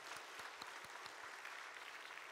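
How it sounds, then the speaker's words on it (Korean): A church congregation at a Korean worship service applauds the choir and musicians, a soft, distant, even patter of many hands clapping continuously with no voices. "오르간의 김세라 집사님께 먼저 우리 감사와 격려 박수하겠습니다"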